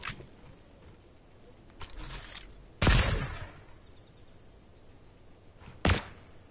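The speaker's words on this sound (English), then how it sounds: "My minion, why are you shooting at me?" Gunfire from a minion in a video game, heard as a few separate sharp bursts and cracks spaced across the stretch with quieter ambience between them.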